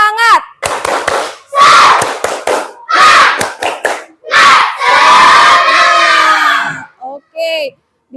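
A school class in a social studies lesson performs a rhythmic spirit clap chant, loud group voices and sharp claps in bursts with pauses, close by and alone without other talk.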